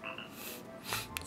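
Brief, soft croaks from a frog character in Super Mario Maker 2, two short bursts in quick succession over faint background music.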